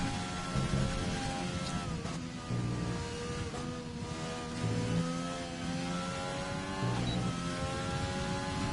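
A Formula racing car on a flying lap of Silverstone in a racing game screams through repeated upshifts, its engine pitch climbing and dropping in a steady rhythm, fairly loud and uninterrupted by voices.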